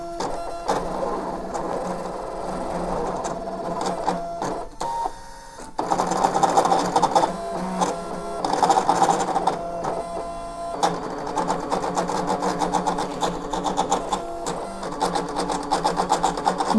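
A Brother cutting machine slices pieces from material with a rapid, rattling buzz like an old dot-matrix printer, running continuously for over fifteen seconds with brief pauses and shifts in pitch.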